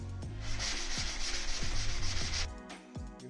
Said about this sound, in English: we're just going to lightly sand it before we paint it so that it's smooth for painting